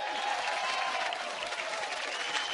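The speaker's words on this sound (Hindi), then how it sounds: "एक बार अनिल कपूर साहब के लिए जोरदार तालियां।" An audience applauds Anil Kapoor, a dense steady burst of clapping from a crowd without talk.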